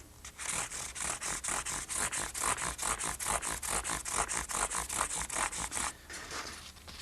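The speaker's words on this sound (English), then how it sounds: "I just take it and rub it back and forth across the top of the frets" Fine-grit sandpaper rubbed back and forth across guitar frets: about two dozen even, rhythmic rasping strokes at a quick steady pace, close and fairly loud, then a brief pause at the end.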